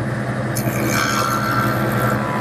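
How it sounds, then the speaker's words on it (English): A jointer makes a final pass along a board edge for a Shaker wall clock, a loud, steady whirring cut with brief scraping texture, heard close and alone. "a final pass through the joiner will make it perfect"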